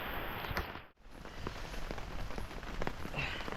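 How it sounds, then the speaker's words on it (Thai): Heavy rain pours steadily during a forest trek, a dense, continuous hiss with scattered drop patters, briefly cut off near the start and then resuming at full strength. "ฝนตกหนักเลยทุกคนเลย"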